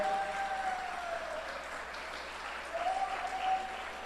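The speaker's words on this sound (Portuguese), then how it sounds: "Convido a igreja a aplaudir ao Senhor, ainda com mais entusiasmo," A church congregation applauding the Lord during a Bible sermon, fairly quiet continuous clapping heard at a distance in a reverberant hall, with a sustained tone sounding over it.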